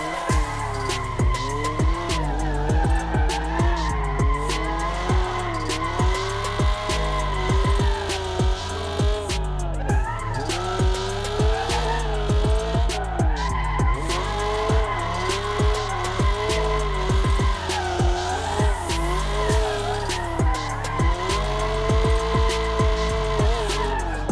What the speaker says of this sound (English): I'm gonna go ahead and try to get some decent drifting in